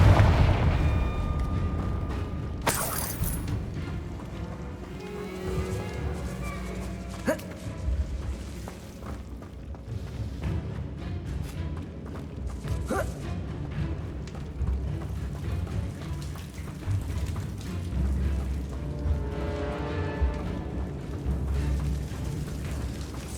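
Confringo fire spell blasting in the Hogwarts Legacy game, a sharp burst near the start followed by booming, rumbling impacts and crackle over a steady low game ambience.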